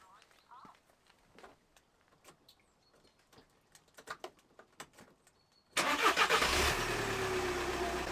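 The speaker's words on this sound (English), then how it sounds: "And the car has to be running." A car engine cranks and catches abruptly after several seconds of quiet shuffling and clicks, then runs at a loud, steady idle to the end.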